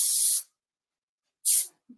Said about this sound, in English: I'm going to finish it up with a little bit of 32 hairspray from Redken